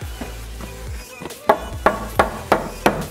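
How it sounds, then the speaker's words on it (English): Hammer blows ring out in a bedroom renovation, a series of five sharp, evenly spaced strikes on a wall, loud and close after a few softer knocks. "That's some good hammering."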